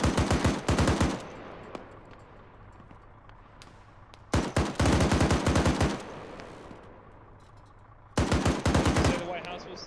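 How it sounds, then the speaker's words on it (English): Automatic weapon fire from ArmA 3 combat: three sharp bursts of rapid shots cracking loudly near the start, middle and end, with a steady low ambient rumble between bursts. "I can hear the shots coming from 136."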